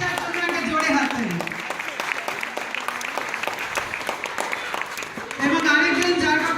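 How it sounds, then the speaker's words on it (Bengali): An audience claps loudly after performers are introduced at a stage show in Singapore, a continuous bed of applause that swells toward the end, with a voice speaking over it at times. "জোরে হাততালি।"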